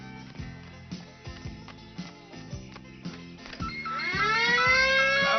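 A house alarm system being set, with a steady run of repeated mechanical ticking clicks followed by a rising, warbling electronic alarm tone that swells louder toward the end, with no talk.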